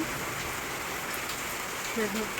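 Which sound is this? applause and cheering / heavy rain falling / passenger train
heavy rain falling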